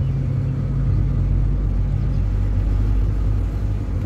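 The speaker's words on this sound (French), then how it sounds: "Oh là là, tout ça, cette circulation là." Steady road traffic rumbles nearby, a continuous low car-engine drone with no pauses or speech, passing motor vehicles blending into one dense hum.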